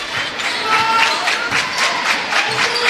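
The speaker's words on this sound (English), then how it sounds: "The East Carter crowd's coming alive there over behind the East Carter bench." A high school basketball crowd behind the East Carter bench cheers in a tournament gym, a steady murmur of voices with rising shouts and a few rhythmic thumps.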